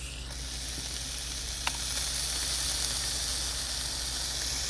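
Sausage cooking in a Dash mini waffle maker sizzles and hisses steadily, a close, even frying sound with one small click partway through and no voices.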